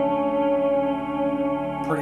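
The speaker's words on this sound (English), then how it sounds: "Reverb setting here is" An acoustic guitar runs through an Alexander Effects Sky Fi reverb and delay pedal with the reverb set high, a sustained chord ringing in a lush, washy tail that fades slowly before a new strum enters at the end.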